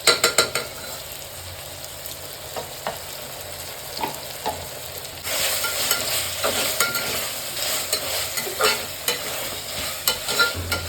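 Biryani masala of tomato, mint, coriander and ginger garlic paste frying in a pan, a steady close sizzle with scattered spoon scrapes and stirring clinks that grow busier midway.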